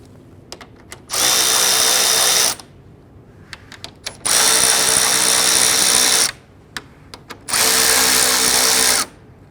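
A power tool drives the hood latch bolts on a 1999-2004 Jeep Grand Cherokee in three loud, close bursts of whirring a couple of seconds each, separated by brief clicks and quiet gaps.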